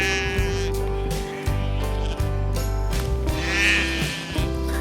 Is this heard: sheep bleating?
yes